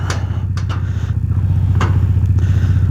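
A Kawasaki Dominar 400 motorcycle engine runs steadily nearby with a low, throbbing mid-range note and a few faint clicks and clatters, heard alone without talk.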